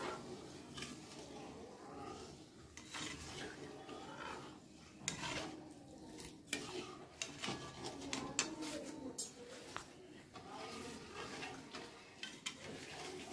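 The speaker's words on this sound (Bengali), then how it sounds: "এইভাবে নাড়িয়ে নাড়িয়ে চিনিগুলোকে আমি গলিয়ে নিচ্ছি।" Sugar stirred in a pan as it melts into syrup for sweet potato pantua, giving soft, uneven scraping and clinking of a utensil against the pan, faint and close, with small irregular bumps throughout.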